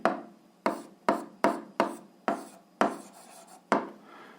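An algebra expression written out by hand in about eight scratchy strokes, each a sharp start that rasps away, coming at an uneven rhythm and heard close up with no talking.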